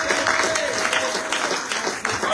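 Church congregation applauding together, a dense steady wash of clapping hands that fills the room for a couple of seconds, fairly loud and continuous with faint voices mixed in.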